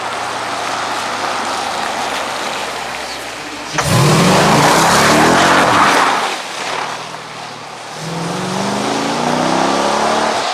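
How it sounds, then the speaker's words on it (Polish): A 2014 Jeep Grand Cherokee SRT8's 6.4-litre V8 revs hard and surges loudly, with tires scrabbling and sliding over loose gravel in a turn on an empty car park before the roar settles into a lower rumble. "dodanie gazu w zakręcie, e, chcąc pokazać jak go zarzucie"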